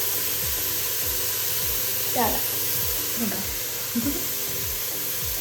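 Onions sauté with thyme in a hot pan, giving a steady, close sizzle and hiss with occasional stirring scrapes under a voice.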